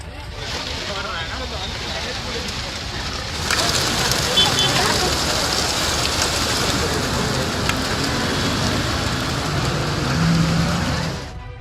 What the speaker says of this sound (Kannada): ಕಾರು, ಆಟೋ, ಬೈಕ್ಗಳ ಮೇಲೆ ಪಟಪಟನೆ ಆಲಿಕಲ್ಲು ಬಿದ್ವು.